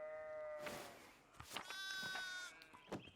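Sheep bleat in the video game Pentiment, several wavering calls overlapping over about three seconds, fairly close and clear with a faint ambient background and no speech.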